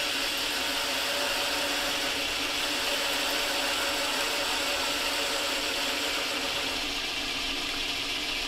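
Metal lathe taking a threading cut, a steady broadband machining whir with a faint scraping edge running continuously at moderate level, no talk over it.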